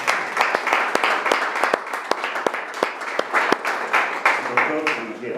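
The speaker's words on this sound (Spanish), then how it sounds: "Y damos un aplauso también a los doctores de la tarde." Applause at a 2021 ASFADI conference for the afternoon's doctors, a sparse, uneven run of distinct claps from a small audience, with voices talking over it near the end.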